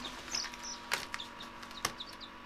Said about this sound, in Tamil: பார்த்தீங்களா கோழி குஞ்சு?